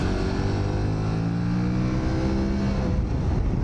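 An Aprilia Tuareg Rally motorcycle with a 21-inch front wheel rides along a road, its engine a steady, loud drone with shifting pitch, heard alone throughout.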